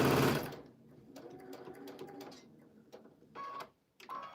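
A sewing machine stitches quilt fabric in a steady mechanical run, its needle rattling rhythmically, with brief pauses and a few short restarts near the end.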